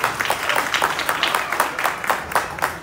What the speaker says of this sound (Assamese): আমাৰ ৰাইজে এটা হাত চাপৰি বজাই দিলে খুব ভাল লাগিব